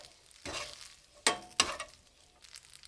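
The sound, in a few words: pasta tossed with garlic in sizzling oil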